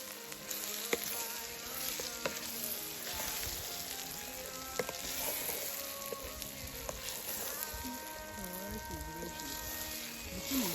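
Food sizzles and fries steadily in a pan during home cooking, a dense, continuous crackle with scattered pops that stays close and fairly loud throughout, with faint voices and kitchen clatter now and then in the background.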